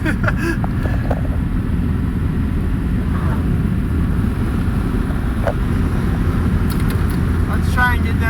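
A Nissan project car driving with its engine droning steadily up close, plus wind noise and faint clicks that may come from the gear changes.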